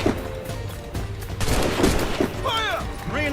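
Scattered musket and rifle volleys crack in a close-quarters battle in Assassin's Creed Rogue, several overlapping bursts over a low rumble, with shouting voices and game music around them.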